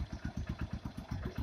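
Honda Eco Deluxe motorcycle engine idling up close, a steady low, even pulsing chug with a slight mechanical clatter, loud and alone without talk.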